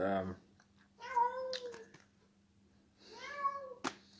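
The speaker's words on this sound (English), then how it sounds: "think the cat is going crazy here" A domestic cat meows twice, each call a drawn-out, rising-then-falling cry at moderate volume, with a steady low hum underneath and a faint voice at the start.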